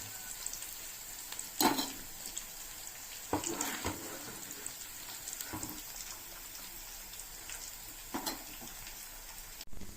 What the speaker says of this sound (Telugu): అల్లం వెల్లుల్లి పేస్ట్ నూనెలో వేసి ఇది బాగా ఫ్రై చేయాలి.